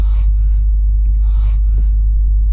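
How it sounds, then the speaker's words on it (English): Heavy, rough breathing from James in Silent Hill 2, two or three ragged breaths over a constant low rumble, with no talk. "He has a very odd way of breathing."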